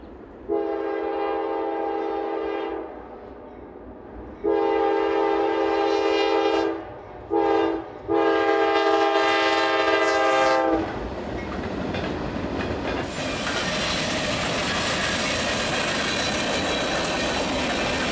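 Norfolk Southern freight train led by a Dash 9 paired with an older-cab C40-9 on the former Southern Danville district in Virginia, sounding loud, long horn blasts in a broken pattern, then a close rumbling roar of the passing locomotives and cars.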